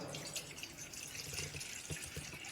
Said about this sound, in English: in the pot we will add the water,